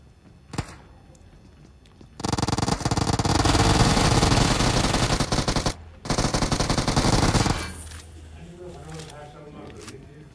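Rapid machine gun fire in the BGMI battle royale game, a loud sustained burst of automatic shots lasting several seconds with a brief break, preceded by a single thump and trailing off into quieter game noise.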